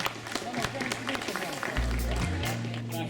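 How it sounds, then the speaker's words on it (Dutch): Spectators applaud the Rabo Liv Women Cycling Team at a stage start of the 2016 Boels Rental Ladies Tour in Sittard, a steady patter of clapping over a low droning hum lasting a few seconds. "Een geweldig applaus voor de dames van het Rabo Live Women Cycling Team."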